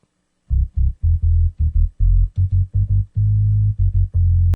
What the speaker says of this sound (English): It's just like a sine wave making a bass tone or a low frequency sound.